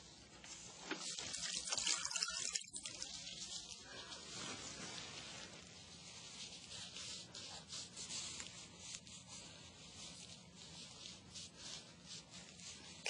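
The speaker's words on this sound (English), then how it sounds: "Now we use soap and warm water to wash around the stoma." Warm water runs and splashes while soapy skin around a stoma is washed, a soft, steady hiss of flowing water with gentle rubbing, faint and continuous throughout.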